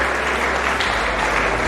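A lecture audience gives the chairman a burst of dense, loud applause, close and continuous throughout the short moment.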